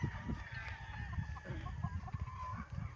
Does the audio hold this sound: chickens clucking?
yes